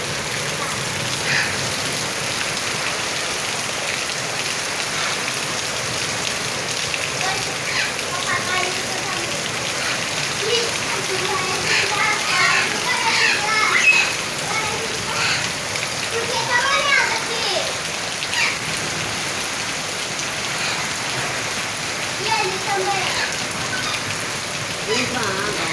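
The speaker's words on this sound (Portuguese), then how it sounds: "chuva com pedra, chuva com pedra, chuva com pedra" Heavy rain with hail pouring down outdoors, a dense, steady, loud hiss and patter that lasts throughout, while children shout and talk over it.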